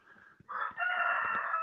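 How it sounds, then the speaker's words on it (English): Cockerel on a free-range organic farm in Portugal crows once in a drawn-out, fairly distant call, preceded by a brief lead-in note and faint background clucks, with no talking. "And a cockerel as well."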